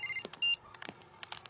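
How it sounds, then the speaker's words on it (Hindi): A phone rings with short electronic tonal beeps, a brief bright ringtone pattern up front followed by quieter clicks and faint background noise, no voices. "उठा ले बेटा, तेरी मम्मी का ही फोन होगा।"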